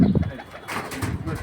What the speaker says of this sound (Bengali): কবুতরটা আমি এই জায়গায় ছাড়ি দিতেছি